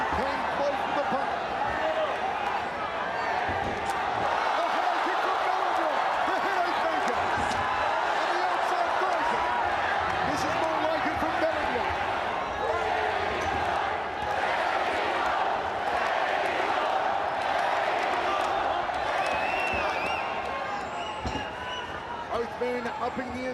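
A crowd roars at an MMA fight, a dense sustained wash of cheering and noise throughout, with a commentator talking over it.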